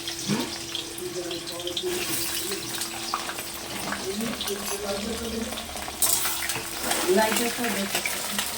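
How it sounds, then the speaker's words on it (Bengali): Eggplant slices frying in a wok give a steady hiss and crackle with stirring scrapes, and some watery splashing sounds are mixed in. "এই যে বেগুন ভাজা আমাদের হয়ে গেছে, এখনও দেওয়া আছে কড়াইতে"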